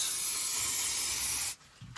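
A loud continuous hiss of aerosol insect spray for about a second and a half, then it stops abruptly.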